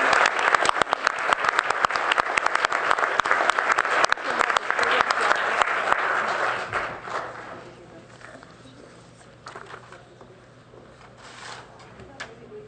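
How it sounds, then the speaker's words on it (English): An audience at a city council meeting applauds a group of sixteen students, dense clapping for about seven seconds that then thins and fades into quieter room noise. "So let's warmly applaud them."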